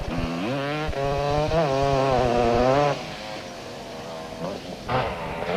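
Racing motorcycle sidecar engine held at wide open throttle, a loud raspy buzzing drone that rises and falls with gear changes, then fades somewhat as the machine passes on, heard alone without talk.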